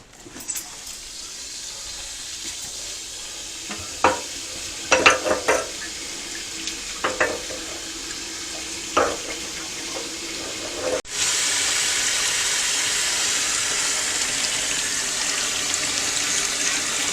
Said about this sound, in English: Now we're going to go ahead and we're going to rinse the gas tank out thoroughly.